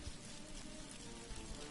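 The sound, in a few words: rain outside open window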